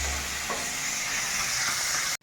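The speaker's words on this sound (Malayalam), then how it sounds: "നന്നായി വഴന്ന സവോളയ്ക്ക് നമ്മൾ പച്ചമുളക് ഇടുകയാണ്" Sliced onions and green chillies sautéing in oil in a pan for a Kerala-style curry, a steady continuous sizzle with a faint stir of the spoon, close and uninterrupted, no voices.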